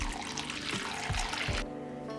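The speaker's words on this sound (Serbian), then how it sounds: "U šerpu ću sipati vodu do visine poklopca." Water poured into a pot holding glass jars, up to the height of the lids, a close continuous splashing and gurgling of liquid that stops abruptly near the end.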